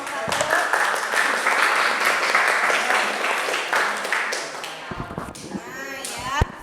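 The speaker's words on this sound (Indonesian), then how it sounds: "tepuk tangan buat kelompok 1" Classroom applause for a student presentation group, brisk clapping from many hands that tapers off into scattered claps, thumps and children's voices.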